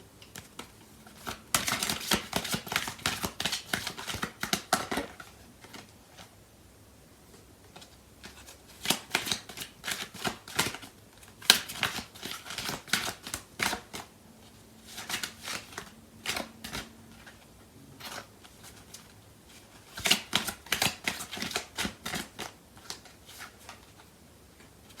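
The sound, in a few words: shuffling tarot cards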